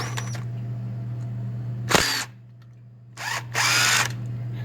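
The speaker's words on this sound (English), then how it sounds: "I like to use the driver. It makes it a lot quicker" A power driver with a 5/16 inch socket spins out alternator bolts on a GM car in two short, loud whirring bursts separated by a quiet pause, close up.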